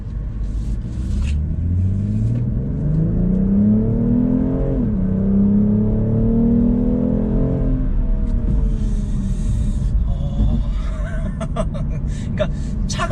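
A BMW M240i with all-wheel drive pulls away from a standstill in comfort mode, its engine note climbing smoothly through one gear change and rising again before easing off, with a voice talking over it from inside the cabin.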